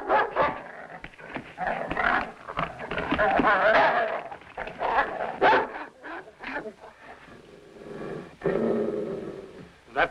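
A dog in a 1930s crime drama barks and whimpers close by in short, repeated bursts, with a few longer whining tones, while voices speak in between.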